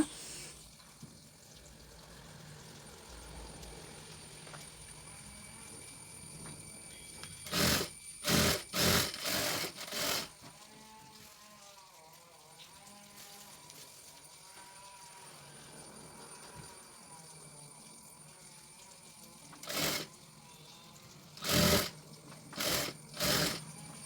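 A sewing machine stitches pieces of fabric together for a feeding frock nighty, running in two clusters of short, loud bursts with quiet gaps between them.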